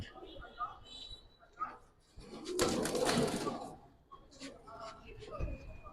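Giribaz pigeons cooing in a loft, soft and intermittent, with a louder burst of rustling or wingbeats midway and people talking throughout.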